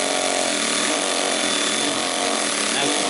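A power drill backing screws out of old decking boards, a continuous loud whirring motor grind that runs without a break.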